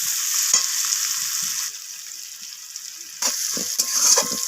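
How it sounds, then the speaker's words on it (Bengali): Onions fry in a pan until reddish with a bright, continuous sizzle, close and alone. The hiss swells briefly at the start and again toward the end. "পেঁয়াজগুলো আমি লালচে রং ধরা পর্যন্ত পেঁয়াজগুলোকে ভেজে নিচ্ছি"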